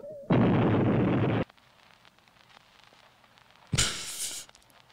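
Two loud blasts from a movie explosion played inside a party video game: a long roaring burst that cuts off abruptly, a quiet gap, then a second sharp bang that fades.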